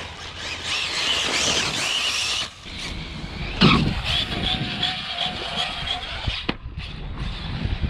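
An ARRMA Typhon 6s RC car's motor squeals loudly and continuously, with a harsh high-pitched whine rising and falling as the car accelerates, close and dominant throughout.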